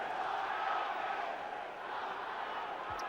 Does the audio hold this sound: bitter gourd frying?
no